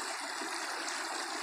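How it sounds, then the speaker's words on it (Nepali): Clear water of the Mangra stream in Rolpa rushes and burbles in a steady, continuous wash, close by and alone with no talk. "मङ्गरा खोला जुन बगिरहेको छ, पानी कलकल पानी"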